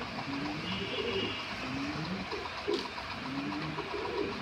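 A Black Lahori pigeon coos softly in low, repeated rolling phrases inside a pigeon farm loft, faint against a steady hiss of background noise.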